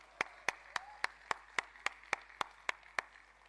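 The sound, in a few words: audience applause at keynote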